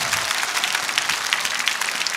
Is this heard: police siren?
no